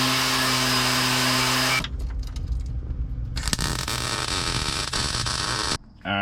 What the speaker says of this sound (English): I'll go at it and weld those on